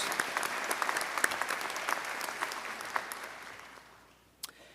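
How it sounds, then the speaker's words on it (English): Applause from a dentistry college commencement audience honoring graduates' families, many hands clapping at a moderate distance, then fading out with a final few scattered claps. "Let's give our families a round of applause"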